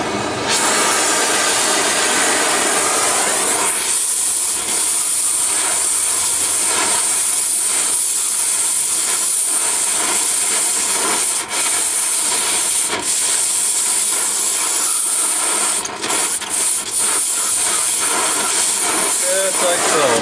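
An oxy-fuel torch hisses steadily and loudly while heating metal so it can be shaped and welded during a fuel system install, a continuous close roar with a few brief dips and crackles throughout.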